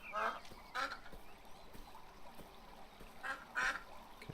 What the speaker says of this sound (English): It's just the ducks honking.